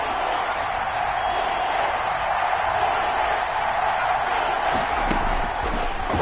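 A stadium crowd roars steadily at a Madden 21 football game between the Giants and Chiefs, a dense, constant wash of cheering. A few thumps and louder shouts rise near the end.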